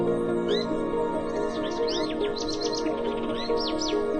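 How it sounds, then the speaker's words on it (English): Several birds sing in Colombian habitat, with repeated high chirps and whistled phrases over a steady layer of insect or ambient hum, continuous and fairly close. "More bird species than any other country on Earth."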